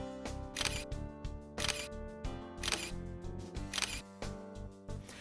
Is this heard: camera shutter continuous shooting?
yes